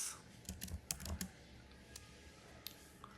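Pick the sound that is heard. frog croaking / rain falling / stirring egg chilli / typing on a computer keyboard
typing on a computer keyboard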